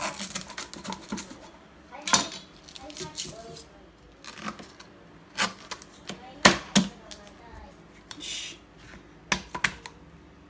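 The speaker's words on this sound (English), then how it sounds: "So I'm going to get a different piece of banana leaf and cut some more." Banana leaf is cut into lengths on a board for making Bajan conkies, giving a series of irregular sharp cutting and rustling snips close by, with a person talking between the cuts.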